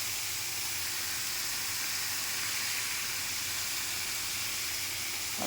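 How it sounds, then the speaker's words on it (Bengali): Vegetables fry in hot oil with turmeric, giving a steady, even sizzling hiss that holds at the same level throughout. "সবজিটা দিয়ে একটু সময় ভেজে নিতে হবে"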